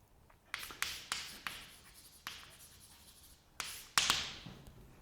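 Writing on a board during a higher algebra lecture comes through as close, scratchy strokes and taps in short bursts separated by brief pauses, with no talking.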